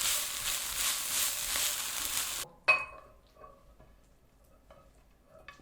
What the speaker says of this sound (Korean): 이제 양파가 반 정도 익었을 때 파프리카를 넣고 살짝만 한번 볶아주시고 끝내주세요.